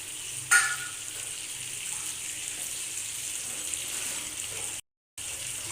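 Fried fish head dropped into a pan of frying potatoes and spice paste for muri ghonto gives a soft, steady sizzle, with a brief sharp clink near the start and a momentary dropout later.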